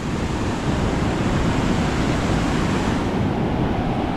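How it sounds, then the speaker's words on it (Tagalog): A constant, heavy roar of large ocean waves crashing, with wind rushing over the microphone and no voices. "Kaya lang, malalaki lang talaga ang alon."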